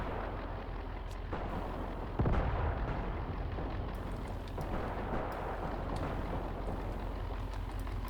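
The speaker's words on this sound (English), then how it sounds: "They're opening up with machine guns." Machine gun fire in the Graviteam Tactics Mius Front war game, a dense rumbling battle din with one heavier boom near the start and scattered sharp cracks throughout.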